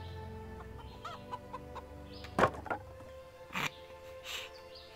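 Video game chickens clucking softly with a few louder squawks, scattered calls over a low background hum.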